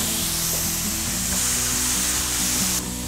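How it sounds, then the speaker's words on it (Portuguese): Shrimp sizzle in a very hot frying pan, a loud, dense, continuous crackling hiss that holds steady and close throughout, with a slight drop near the end. "Frigideira bem quente, a gente vai então trabalhar com um pouquinho do camarão"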